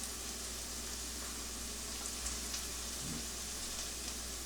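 Onions frying in a pan for a New England steak and cheese, a faint, steady hiss and crackle of sizzling with no voices.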